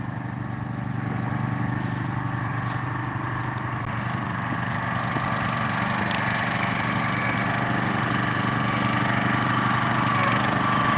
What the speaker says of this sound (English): we have the county line wood splitter, 25-ton